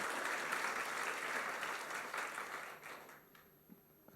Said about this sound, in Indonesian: Beri tepuk tangan yang luar biasa.